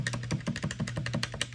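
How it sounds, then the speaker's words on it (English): Rapid, crisp clicking of arcade buttons on a Victrix Gambit Pro fight controller, a steady run of sharp taps about ten per second, close and alone. "I just don't like the fact that these buttons aren't as clicky as these."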